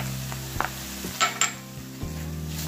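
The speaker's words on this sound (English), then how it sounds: "let those onions and peppers and garlic get nice and soft" Chopped onions, poblano peppers and garlic sauté in a soup pot, a soft steady sizzle broken by a few scraping stirs and light clinks of a utensil against the pot.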